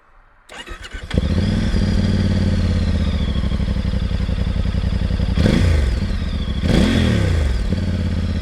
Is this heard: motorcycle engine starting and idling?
yes